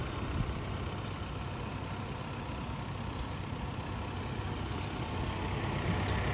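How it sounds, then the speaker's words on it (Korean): A 2021 Audi A6 40 TDI front-wheel-drive diesel idles, heard from outside the car: a steady, low, rumbling drone with broadband clatter that stays even and fairly quiet throughout, with no voices. "이제 외부로 나오면 디젤 소음이 들리죠."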